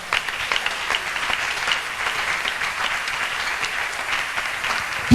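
Church congregation at a prayer retreat breaking into applause to praise the Lord, a dense, steady round of many hands clapping, fairly loud and close, sustained for several seconds without speech.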